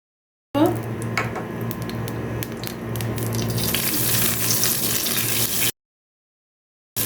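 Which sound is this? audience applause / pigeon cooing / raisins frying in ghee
raisins frying in ghee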